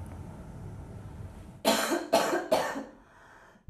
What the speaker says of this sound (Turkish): İnatçı öksürük en çok çocuklarda görülüyor.